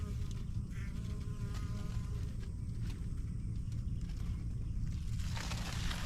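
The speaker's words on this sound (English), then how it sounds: "if I'll be quiet, you'll hear how happy the bees are this morning" Bees buzz steadily around squash-type garden blooms on a morning, a close, continuous droning hum with a low rumble beneath and no speech.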